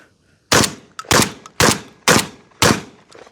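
A Beretta A300 Ultima Patrol 12 gauge shotgun with a 19-inch barrel fires five loud, sharp shots at an even pace about half a second apart, each blast ringing out briefly, with no voices.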